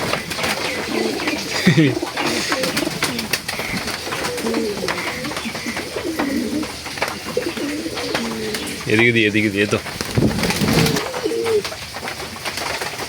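Pigeons coo in soft, repeated throaty bursts close by, while a person talks intermittently over them.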